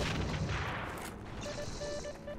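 A grenade blast in Heroes & Generals booms fairly near amid sporadic gunfire and artillery-like thumps, rumbling through a busy battlefield mix.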